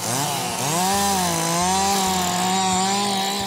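A chainsaw carves wood at a chainsaw carving competition in Frederick, Colorado, its engine loud and close, pitch rising and falling as it revs and bites, with a few short cuts along the way.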